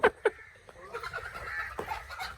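Roosters and chickens in a village yard, a few sharp clucks at the start followed by softer scattered clucking and faint farmyard murmur, nearby and fairly quiet.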